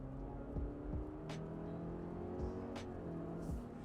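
A 2025 Subaru Forester with a CVT accelerates flat out in sport mode, its engine drone climbing steadily and stepping through a few simulated shifts, heard from inside the cabin at a moderate, even level.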